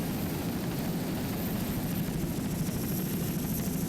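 A helicopter filming an offshore powerboat race off West Palm Beach gives a steady, continuous rotor and engine roar, broad and unbroken with no voices heard.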